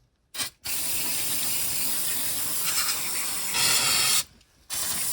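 A loud, close aerosol spray of brake cleaner hissing in long continuous bursts onto worn Allen bolts on a BMW E46, with short pauses between them, and no one speaking.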